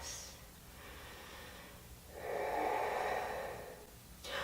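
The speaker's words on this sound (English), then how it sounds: "Full breaths." During yoga practice, a person breathes deeply and audibly in long, slow inhales and exhales, close and soft with no speech.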